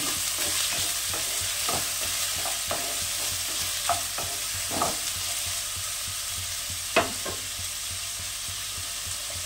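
New potatoes frying lightly in a small amount of mustard oil, a steady sizzle under repeated scraping and tapping of a spatula, close and even, no talking.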